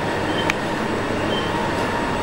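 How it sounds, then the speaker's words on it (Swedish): Train travelling, a steady broadband rumble and rush of rail noise heard from aboard, constant and loud, with a brief high squeal or clank partway through. "Tåg."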